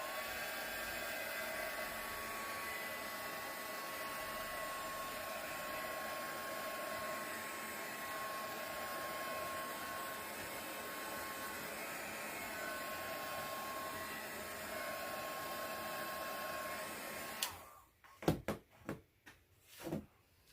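A hair dryer blows steadily and loudly on paint drying on a leopard-print pumpkin door hanger, running continuously before switching off near the end, followed by a few brief knocks and handling sounds.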